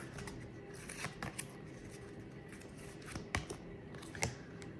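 Tarot energy cards being shuffled by hand, heard as soft riffling and flicking taps close by at low volume with no voice.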